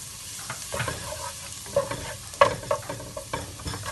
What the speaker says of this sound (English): Fry the garlic.